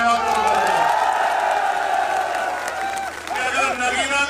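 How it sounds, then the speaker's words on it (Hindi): A crowd at a political rally, the Bahujan Samaj Bhaichara Sammelan in Nagina, cheers and whoops loudly over sustained clapping that stays dense throughout, with shouted voices rising out of the crowd. "दोनों हाथ भरके ताली बजा के नगीना के लोगों का धन्यवाद करूंगा"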